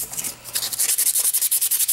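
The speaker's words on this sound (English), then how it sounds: "You sand it down." Sandpaper rubs over a 3D-printed prototype part in quick back-and-forth strokes, a close, rhythmic, raspy scrubbing that grows steadier after a softer start.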